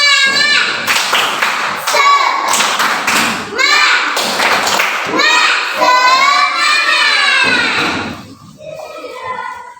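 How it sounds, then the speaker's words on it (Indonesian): Children in a classroom perform the tepuk semangat clapping chant, with rhythmic bursts of claps and thumps alternating with loud chanted voices in a patterned call-and-clap sequence close by. "Teman-teman, mari kita lakukan tepuk semangat."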